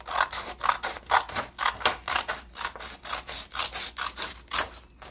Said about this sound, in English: we need to cut across a sheet from the short edge for our grass